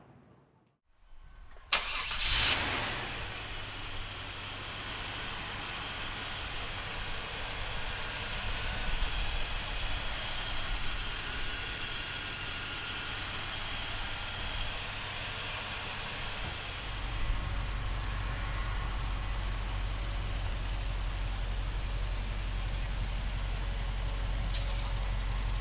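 A 1999 Chevrolet Tahoe engine cranks briefly, catches and settles into a steady idle. The low rumble stays close and continuous with no talking, then drops to a deeper hum near the end.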